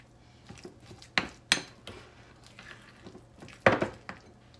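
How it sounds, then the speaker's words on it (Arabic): Chicken pieces being mixed with seasoning in a bowl, a few sharp clinks and knocks of utensil against the bowl between quieter soft handling sounds, no talk. "غادي نخلط هذا الشيء كامل"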